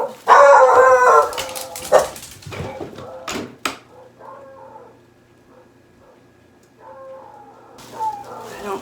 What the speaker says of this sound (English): I don't know if they caught sight of that dog or not.